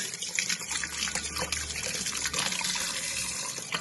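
Korameenu fish being scrubbed and washed under a running tap in a sink, a steady splashing rush of water with small sloshes and trickles throughout, no voices.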